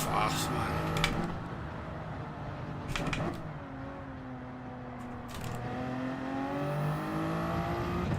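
A Toyota Supra Group 3 race car in Gran Turismo 7 at Sardegna Road Track A holds a steady engine drone with shifting pitch and brief gear-change breaks, mixed under someone talking throughout.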